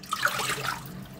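Water pours and splashes steadily into a saucepan for a brief moment, close and moderately loud.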